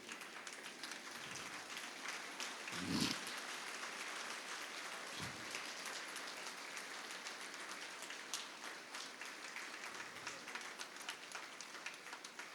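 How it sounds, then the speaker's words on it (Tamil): Audience applause after a Carnatic vocal arangetram, heard faintly and from a distance as a steady wash of clapping with a couple of brief louder bumps. "எழுந்து நின்று அவங்களுக்கு ஒரு பெரிய கைத்தட்டல் கொடுங்க"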